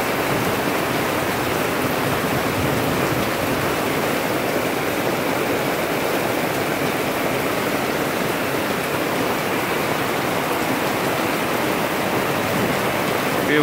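A heavy, sudden rain downpour during a July 2018 thunderstorm over Peterborough, a dense and steady roar of falling water that stays loud for the whole stretch with no break and no talking.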